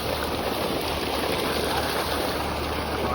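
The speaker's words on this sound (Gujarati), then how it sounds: "આપણે આવી ગયા બોર પર પાણી પીવા" Water gushes steadily from a farm borewell outlet in a village field, a constant broad rushing splash close by with no break and no talking.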